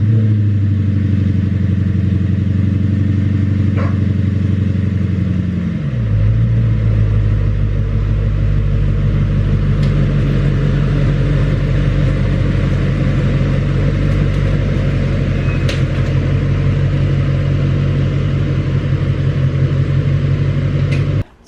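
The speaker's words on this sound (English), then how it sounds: "we're gonna go ahead and pull the car out of the garage" A steady Nissan 240SX (S14) engine idles loudly up close, dropping in pitch partway through as it shifts and rolls out of a garage, rumbling continuously.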